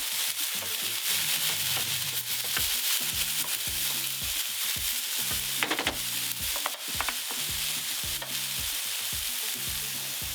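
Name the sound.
vegetables searing and caramelizing in a pan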